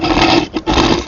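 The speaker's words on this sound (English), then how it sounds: "we're going to take a little scratch on the board here" A short, loud, rasping scratch marking a wooden board, two harsh strokes split by a brief pause, very close.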